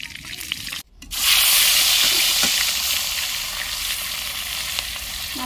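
Rohu fish fries in hot oil in a kadai for a village-style fish curry, a loud sizzling hiss bursting in after a brief pause and continuing steadily, with faint stirring scrapes.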